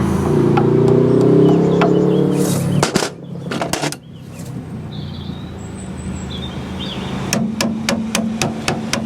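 A front suspension part on an MGA 1600 being hammered out in a workshop, a loud burst of sharp metallic blows at first, then a quieter gap, then a faster run of ringing taps.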